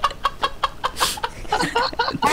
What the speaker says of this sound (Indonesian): Ketawa ayamnya keluar, ketawa ayam.